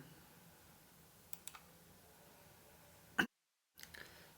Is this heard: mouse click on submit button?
yes